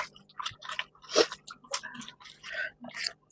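Someone bites into and munches potato chips up close, with a sharp crunch near the middle among softer chewing and squishy mouth sounds, no talking over it.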